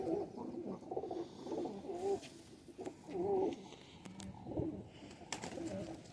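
Pigeons coo in repeated rolling phrases at close range, several calls spaced a second or so apart, with faint background noise and no talk.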